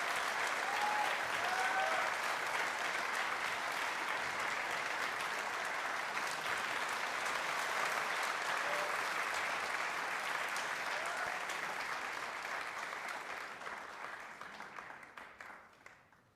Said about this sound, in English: Ladies and gentlemen, a big round of applause for our guest of honor.